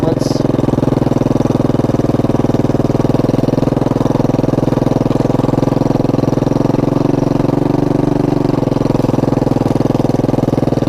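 A 1983 Honda ATC 200E three-wheeler runs at a steady loud idle up close, its engine drone constant throughout with a rough, noisy rear end.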